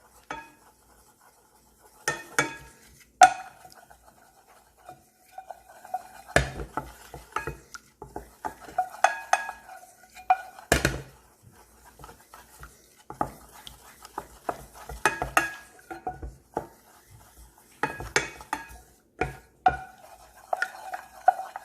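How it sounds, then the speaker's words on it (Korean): A spoon scrapes and knocks around a pot while stirring roux for beef stew, in irregular bursts, with soft clinks of metal against metal and quiet gaps between strokes, no talking. "이 루를 충분히 잘 볶아주시는 게 굉장히 중요하죠"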